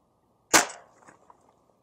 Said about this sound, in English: that is definitely a healthy thud for a 22 pellet